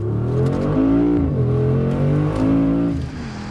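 Brabus-tuned Mercedes SUV accelerating hard on a test track under kickdown, a loud, close engine roar climbing through rising gear pulls with a brief shift dip, continuous and alone with no talk.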